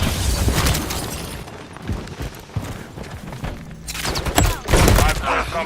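Gunfire in a video game, a fast burst of rattling shots up front, then scattered bangs and heavier loud volleys with bright crackling impacts near the end, alongside in-game voice call-outs.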